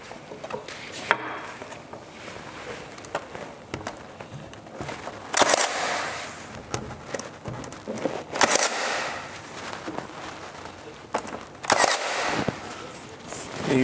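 A nail gun fires into a door stop trim piece during a home remodel, three sharp snapping shots spaced a few seconds apart over quiet room noise.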